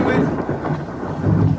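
Rain with thunder, a dense continuous wash of rainfall under a low rumbling roll that swells near the end, loud and enveloping with no talk over it.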